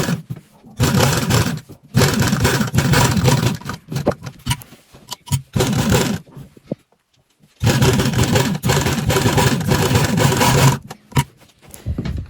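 A sewing machine stitching the neckline of a lined suit runs loud and close in several long whirring bursts, separated by brief pauses.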